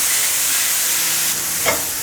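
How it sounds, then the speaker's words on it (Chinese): Enoki mushrooms stir-frying in hot oil in a wok, a loud continuous close sizzle with a brief scrape of stirring near the end. "锅内放入适量的油，油热了，放入金针菇，把金针菇炒香。"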